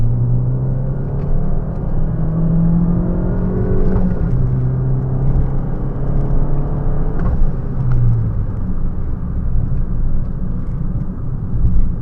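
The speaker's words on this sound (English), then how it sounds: "Right now I'm in sport mode. Let's go give it some boost. 18 PSI of boost." Turbocharged car engine in sport mode accelerating hard at 18 psi of boost, a loud, steady rumble with engine tones rising and falling as it pulls, continuous and close with no talking.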